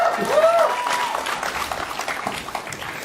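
Audience applause at a business conference fireside chat, a steady spread of clapping held for several seconds under a faint whistle-like tone near the start.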